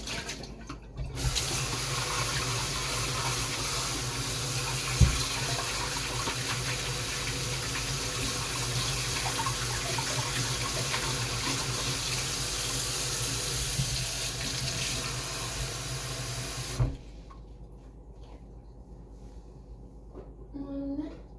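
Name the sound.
water running from a tap while rinsing pet bowls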